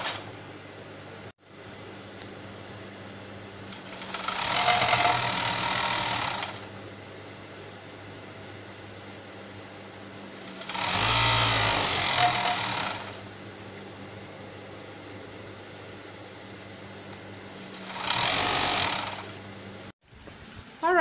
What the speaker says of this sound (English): you can see I've overlocked my flounce.